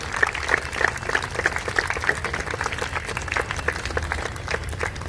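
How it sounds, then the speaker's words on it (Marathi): An audience at an under-13 girls' football tournament ceremony claps to welcome a guest, a dense and sustained round of applause with crisp individual claps, fairly loud and close, with no talking. "टाळ्यांचा गजर हा झाला पाहिजे"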